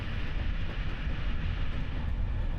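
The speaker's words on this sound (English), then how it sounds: "where we can reach our train's maximum speed of 130 km per hour" An old Bulgarian express train with 40-year-old carriages runs at about 130 km/h, giving a steady, dense low rumble and rolling noise from inside the carriage with no distinct clacks.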